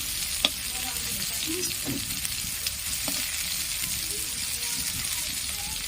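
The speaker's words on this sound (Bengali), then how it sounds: "একটু লাল করে ভেজে নেব" Pointed gourd (potol) pieces frying in oil in a pan, a steady continuous sizzle with a few soft stirring knocks, close and fairly loud, with no voices.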